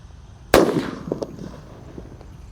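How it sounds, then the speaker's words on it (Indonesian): A thunder firecracker set in a hole in the ground goes off with one sharp, loud bang, followed by a short muffled rumble and scattered faint debris sounds as it dies away. "ada mercon petir guys yang akan kita nyalakan. Kita masukkan di dalam tanah ya."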